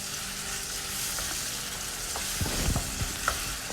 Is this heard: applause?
no